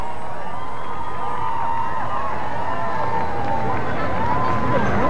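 A large outdoor crowd cheers for Gorbachev during his June 1990 visit to Minnesota, a loud, continuous roar with shouts and whistles that swells toward the end.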